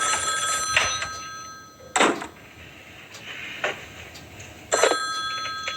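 An old-style telephone bell rings in a 1974 horror film, Black Christmas: three separate sharp bursts of ringing spaced a few seconds apart, loud and clear over a quiet room-tone background, with no speech.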